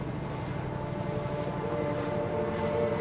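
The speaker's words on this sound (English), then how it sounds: "The helicopter." Helicopter in a Minecraft zombie apocalypse game, a steady low rotor and engine drone rumbling continuously at moderate distance, fairly quiet with no talk.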